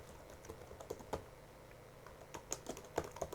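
Computer keyboard typing while entering text in a design program, a burst of quiet, uneven key clicks close up over faint room noise.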